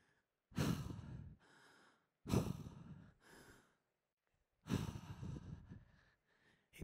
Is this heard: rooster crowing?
no